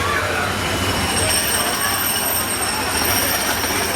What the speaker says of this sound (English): Today, we're going on the monorail.